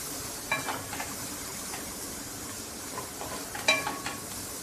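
Bitter gourd and onion sabzi being stirred in a pan with coriander leaves, a faint low sizzle broken by a few scraping spoon strokes, quiet and close with no talking.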